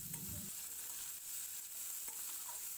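Quiet, faint sizzling as carrot, potato and pumpkin fry in a pan, with a few soft scraping stirs at the start.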